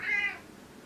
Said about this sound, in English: sorry for the little cat interlude